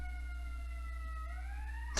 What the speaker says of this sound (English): You hear it? It's the ambulance.